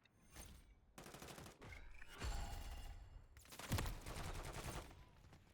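Repeated gunshots from the FR Avancer rifle in a first-person shooter video game come in several sharp bursts, loud and close, with short gaps between volleys.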